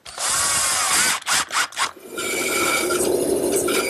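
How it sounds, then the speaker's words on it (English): Power drill driving a couple of screws to fasten a wooden jig to a table saw miter gauge, a loud steady whir followed by several short bursts, then quieter workshop hum. "now a couple screws to attach the jig to the miter gauge"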